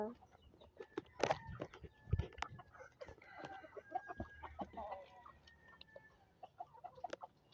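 Chickens cluck and squawk in short irregular bursts, fairly near but quiet, with a voice talking and playing among them throughout.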